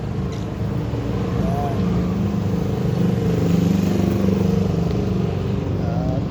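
Yamaha NMAX scooter engine droning steadily while riding on the street, a continuous low hum with road and wind noise, fairly loud and constant throughout.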